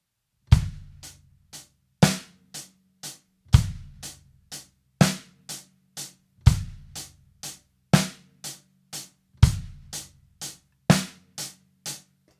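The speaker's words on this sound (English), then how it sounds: "you can just play an eighth note triplet groove parrot fashion" Drum kit playing an eighth note triplet groove, with evenly spaced hits in repeating groups of three, each group opening with a heavier accented stroke, close and clear with no talking.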